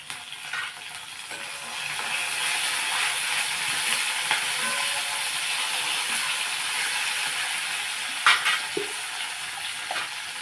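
Curry leaves crackle and sizzle in hot tempering oil for kadhi gole, a steady broadband frying hiss that runs throughout, with a few sharper pops and spatters near the end and no talking.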